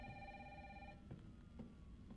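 A telephone rings in the survival horror game Resident Evil 3, a steady electronic ring for about a second before cutting off, followed by faint scattered game sounds and ambience.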